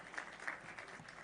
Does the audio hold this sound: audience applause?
yes